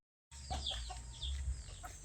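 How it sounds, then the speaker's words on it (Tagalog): Several chickens cluck in short, scattered calls close by, over a steady low rumble of background noise. "So, eto na guys yung mga manok ko."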